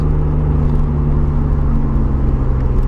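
A Nissan R32 Skyline GT-R with a twin-disc clutch drives along, its steady mid-pitched engine drone carrying a constant tonal gearbox whine, loud and close, with no talking.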